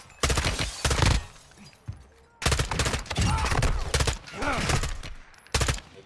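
Automatic gunfire in Call of Duty DMZ, several loud sustained bursts separated by short pauses, with faint voices between the volleys.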